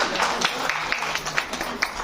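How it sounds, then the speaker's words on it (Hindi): Applause from an audience at a multilingual national poetry gathering in Delhi, steady dense clapping filling the whole stretch at moderate loudness. "जोरदार ताली से सत्कार करेंगे।"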